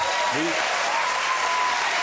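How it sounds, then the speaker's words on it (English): Studio audience applause on a TV chat show, a loud continuous wash of clapping from a packed room that stays even throughout, with brief voices over it near the start. "There was applause from some parts of the audience when the shirt came off then."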